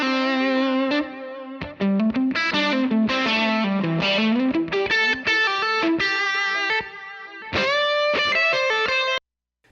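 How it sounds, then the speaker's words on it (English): Lead electric guitar through a Line 6 Helix with a big delay, playing a sustained distorted melodic line with bends and echo trails, loud and up front with no voices. "I bring a lead part in to showcase the lead snapshot of this preset. And again, you'll notice there's quite a big delay on this."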